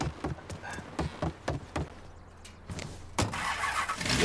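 A car in the video game Mafia 3 starts up after a run of rhythmic clunks and taps, the engine catching and settling into a fuller idle rumble near the end.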